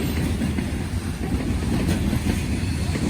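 A freight train hauling BNSF hopper cars rolls past close by, a loud, continuous rumble with heavy low-end roar and steady wheel clatter, no talking.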